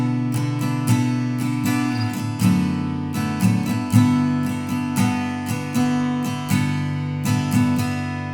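Acoustic guitar strumming the verse variation of a song, a steady full strumming pattern with regular accented strokes, close and clear with no voice.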